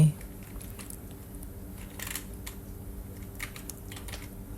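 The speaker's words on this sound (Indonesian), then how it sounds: "Nah di bawah situ kita ketik di sini" Typing on a computer keyboard while filling in a Google Sheets form, with quick irregular clicks and taps running close by under a low room hum.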